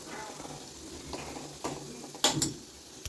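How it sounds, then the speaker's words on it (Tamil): Rava banana sweet frying in hot oil, with a soft, steady sizzle running underneath a few sharp clinks and scrapes of a utensil against the pan near the end. "அதே மாதிரி எல்லாத்தையும் பொறிச்சு எடுத்துக்கலாம்"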